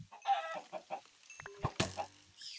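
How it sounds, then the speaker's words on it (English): Chickens in the Minecraft video game cluck in short, separate bursts, with several hen-like calls following one another close by. "Damn, there's a lot of chickens here today."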